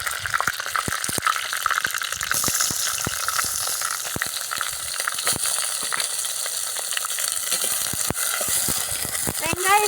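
Onions and curry leaves frying in a pan for a potato fry, a loud continuous hiss and crackle close by with frequent sharp utensil taps and stirring.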